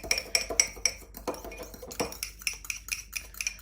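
Egg beaten with a fork in a bowl, a rapid run of light metallic clinks and taps against the dish, close and fairly quiet, with no voices.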